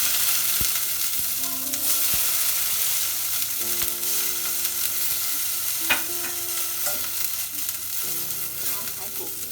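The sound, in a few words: dried chillies frying in oil for spicy sour pork ribs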